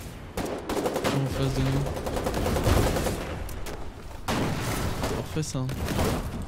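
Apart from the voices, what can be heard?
gunfire shooting at a bunker base in Foxhole video game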